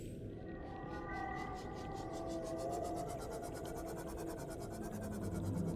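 Whale-like sea creature in Subnautica, a long drawn-out tonal call with rising, wavering pitch over a dense underwater rumble, heard from a distance.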